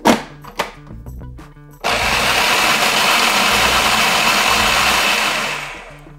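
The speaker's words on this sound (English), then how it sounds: "process for about 5 seconds on low speed" Food processor running on low speed, blending pesto sauce with freshly grated cheese, starting after a few short clicks and knocks into a loud steady whirring motor drone for about four seconds before winding down, with no talking.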